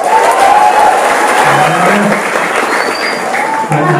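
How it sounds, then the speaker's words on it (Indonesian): Crowd clapping together at an outdoor traditional performance at a village temple in Bali, loud sustained applause with a few voices calling out, fading slightly toward the end. "Mari tepuk tangan berarti kita bahagia. Tepuk tangan."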